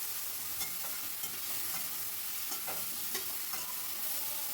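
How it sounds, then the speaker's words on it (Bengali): A spoon scrapes and stirs thick fish roe curry masala in a pan, with a steady sizzle under irregular clinks and scrapes, close and alone with no voices. "আবারও ঢাকা তুলে একটু নাড়াচাড়া করে নিচ্ছি।"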